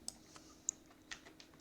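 Light, quick keystrokes on a computer keyboard, a few soft irregular clicks close by and faint beneath a quiet background hum.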